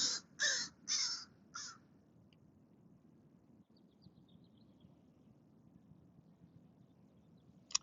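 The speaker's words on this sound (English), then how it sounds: "That's my crow friend that just came by." A crow out by a dock caws four times in quick succession, loud and close, then the scene settles into faint quiet outdoor ambience.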